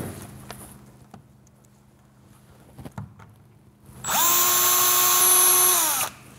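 A power drill boring pilot holes in a door: a few faint taps and handling knocks, then a loud, close motor whine that spins up, holds steady for about two seconds and stops sharply.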